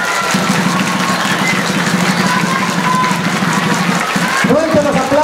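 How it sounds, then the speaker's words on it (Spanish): Dense crowd applause for a finalist at a Mojiganga festival contest in Tepalcingo, loud and sustained throughout, with a festive babble of voices underneath and a rising whistle-like tone near the end. "a Britanny, póngale fuerte el aplauso."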